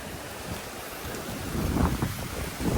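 Strong wind blows across open land with a pit beside a lemon tree, a steady loud rushing roar that swells in gusts toward the end, with no voices.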